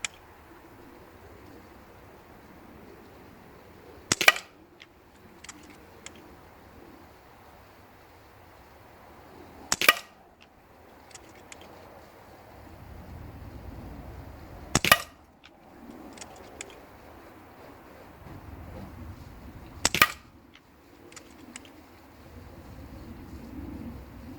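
Kral NP02 air rifle firing pellets into a target, four sharp isolated shots spaced about five seconds apart, each a crisp close crack standing out against quiet outdoor background with faint bird sounds.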